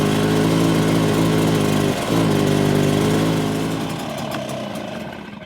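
A Stihl BR600 backpack blower's small engine runs loud and steady up close, briefly dips around the middle, then fades lower as it settles toward idle.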